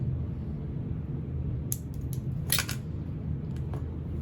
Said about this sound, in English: we're gonna fold that in half, snip the center